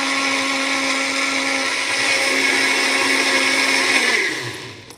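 A kitchen blender runs loud and steady, whipping milk with drops of oil into homemade butter; its high motor whine holds even for about four seconds, then winds down and fades at the end.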